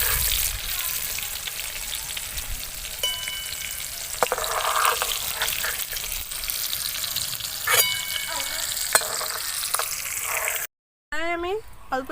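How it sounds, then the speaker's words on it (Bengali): White oil and ghee crackle and sizzle in a pan with a steady fry hiss. Occasional clinks and stirring break through, and the sizzle stops briefly near the end before a short burst of talk. "আমি অল্প একটুখানি সাদা তেল দিয়ে দিয়েছি, এরপরে আমি একটুখানি ঘি দিয়ে দেব।"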